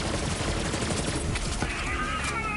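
Borderlands 3 SMG fire rattles on continuously in a thick, crackling stream of rapid shots, loud and close, with other battle noise layered beneath.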